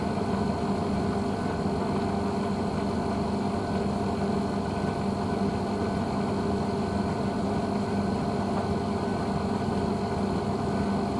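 A Blomberg WNF9448 washing machine on a fast full-load 40-degree cycle running up toward spin, a steady close mechanical hum with a constant motor whine, unbroken and even throughout.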